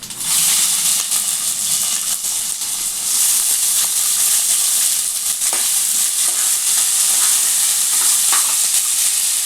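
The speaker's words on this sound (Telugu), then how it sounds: "ఇవి కొంచెం మంచిగా ఫ్రై కావాలి, గోల్డెన్ కలర్ వచ్చేంత వరకు ఫ్రై చేసుకోవాలి." Onions, green chillies and curry leaves frying in a pan for poha upma, a steady loud sizzle and hiss that runs without a break and has no talk over it.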